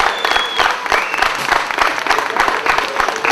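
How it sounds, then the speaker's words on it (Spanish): Wedding guests applaud at a reception, a loud, close and steady round of clapping from a crowd with a few voices faintly mixed in. "Un aplauso para mi papá"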